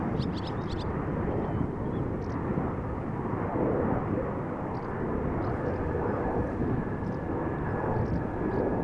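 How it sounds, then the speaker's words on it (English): A Boeing 737 takes off from the center runway at Amsterdam Schiphol, its engines a broad continuous roar that holds steady and loud for the whole stretch, with no voices over it. "737 taking off from center, destination Barcelona"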